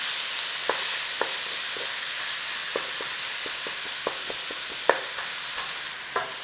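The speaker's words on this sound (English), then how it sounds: "Just break it up and cook it. It's going to defrost in the pan." Frozen mince sizzles steadily in a pan while a utensil breaks it up, producing irregular sharp taps and scrapes over the constant close frying hiss.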